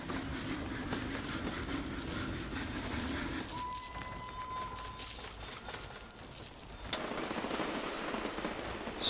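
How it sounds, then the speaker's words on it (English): A train running on tracks in the railway management game Sid Meier's Railroads, a steady rolling rumble with rhythmic clatter and a brief whistle-like tone partway through, continuous and fairly close, with no talking. "This train's not going to make any money at all."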